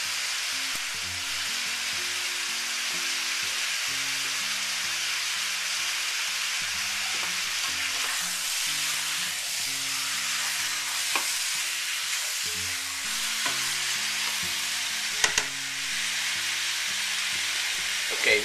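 Garlic and bay leaves fry in a pan for Filipino chicken adobo, a steady close sizzle with occasional stirring clicks and a faint background music bed, no talk.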